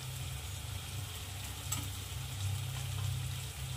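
Chole masala frying in hot oil as turmeric is added, a steady close sizzle with light stirring scrapes and a soft bubbling undertone, no voices.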